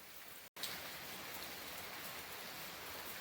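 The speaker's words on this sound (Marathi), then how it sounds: "एकदम शांततेत आणि बारीक पाऊस पडतोय." Light, gentle rain falls steadily over fields in Alibag, a soft continuous hiss of fine drops with no thunder, briefly cut by a short gap near the start.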